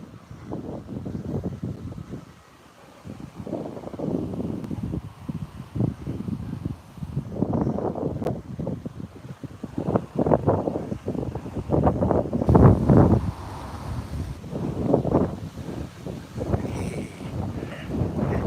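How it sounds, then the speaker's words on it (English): Gusty wind buffets the microphone outdoors during a walk, rising and falling in uneven surges over roughly twenty seconds with a brief lull early on, loud and close, with no speech. "Bit gusty, isn't it, today?"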